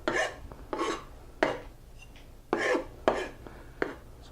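A kitchen knife mincing food on a cutting board while making pepper soup, heard as several short, fairly close bursts of chopping in quick groups with brief gaps between them.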